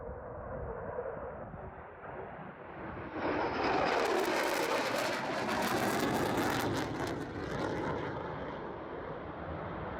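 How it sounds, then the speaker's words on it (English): A low-flying fixed-wing aircraft passes overhead at a popular plane-spotting spot in Wales, its broad jet roar swelling sharply partway through and staying loud and close for several seconds before easing slightly. "a really, really unique spot to be able to see low-flying aircraft"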